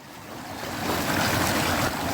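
Water rushing steadily along a brook, a dense broadband wash that swells slightly louder partway through and then holds, with no voices.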